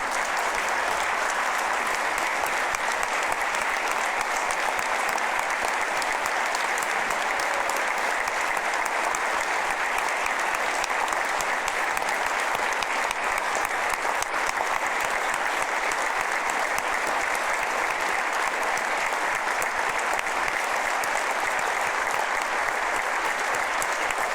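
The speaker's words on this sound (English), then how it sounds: "We'll give you a round of applause, but don't sit down." Steady, sustained applause from a large crowd at a governor's State of the State address, dense and even throughout with no pauses.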